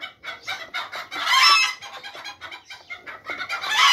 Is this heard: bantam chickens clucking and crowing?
yes